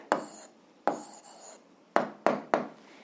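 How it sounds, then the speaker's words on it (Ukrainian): A pen writes an answer for a 7th-grade algebra exercise, making five short scratchy strokes at uneven intervals, close and fairly quiet, with no one talking. "а зараз записуємо відповідь. Пишемо відповідь."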